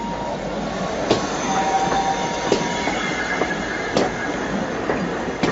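A model train runs along its track, with a steady rolling rumble and regular metallic clicks at the rail joints roughly every second and a half, close and continuous with no voices.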